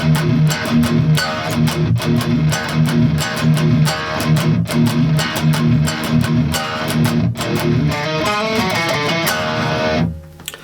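Distorted electric guitar plays the verse riff of a song, with loud, rhythmic, chugging low power chords struck repeatedly. The sound is close and continuous, then cuts off abruptly near the end.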